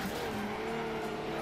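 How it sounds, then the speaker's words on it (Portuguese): Race cars in the demolition racing game Wreckfest, with a continuous loud engine roar and tire noise blending into a dense, steady wash of motor sound. "Nossa, o carro passou por cima do meu, velho."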